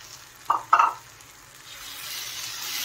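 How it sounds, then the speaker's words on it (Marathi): Drumstick pods drop into hot oil in a pan for a drumstick curry: two quick splashy hits are followed by a hiss that swells into continuous sizzling. No voices are present. "आता त्यामध्ये आपण शेवग्याच्या शेंगा टाकून घ्यायचा आहे।"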